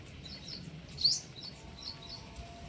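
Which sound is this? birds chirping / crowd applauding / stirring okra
birds chirping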